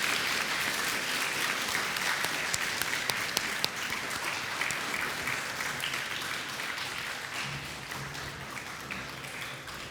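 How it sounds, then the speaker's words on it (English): A school assembly audience applauds award recipients at a Year 9 presentation, sustained broad clapping from a large crowd that stays even and fairly distant for ten seconds, with a few sharper nearby claps. "Can I please have a round of applause"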